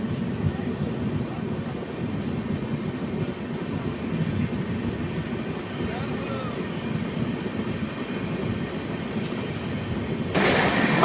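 A passenger train from Kannur to Mangalore Central crossing past a moving superfast express, heard from aboard as a steady loud rumble of wheels and carriages with rhythmic clatter, ending in a brighter surge of noise.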